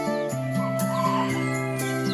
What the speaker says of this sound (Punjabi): ਆ ਚਿੱਟੀ ਮੁਰਗੀ ਆ ਤੇ ਦੁਬਾਰਾ ਫੇਰ ਕੁੜਕ ਹੋ ਗਈ